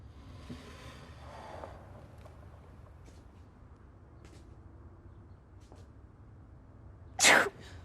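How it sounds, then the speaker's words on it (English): A single sudden sneeze bursts out near the end over quiet background hum, loud and close. "Did you just sneeze?"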